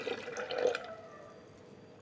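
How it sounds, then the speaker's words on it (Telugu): A glass of water is poured into freshly ground amla paste in a mixer jar, giving a short splashing pour that fades quickly into quiet, with a sharp knock right at the end. "గ్లాసు వాటర్ పోసేసి"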